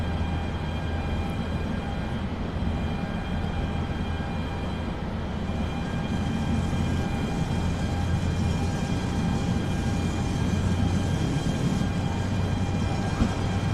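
Steady, unbroken rumble of a passenger train running in Train Sim World 6, a constant low drone with faint tonal hum from the engine, no voices over it.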